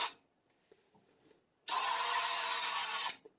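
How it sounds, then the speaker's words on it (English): A few faint taps in near-silence, then a power drill with a drill bit whirs loudly for about a second and a half before stopping abruptly. "You can tell by the way that the drill bit walks."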